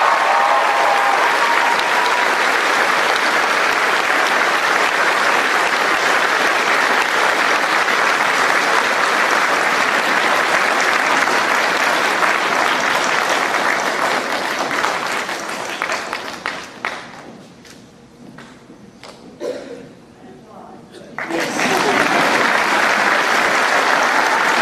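Sustained loud audience applause for a student at a school senior recognition ceremony, steady dense clapping for about fifteen seconds, then thinning briefly before swelling back to full strength.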